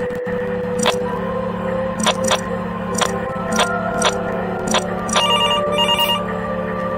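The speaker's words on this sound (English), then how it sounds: "Wait a minute. Is that the Mira HQ phone?" A phone rings at Mira HQ in the video game Among Us as a series of sharp, regularly spaced electronic chirps over a steady low hum, the rings coming in pairs and growing denser toward the end.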